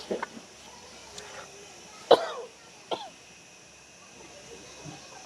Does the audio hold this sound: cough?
yes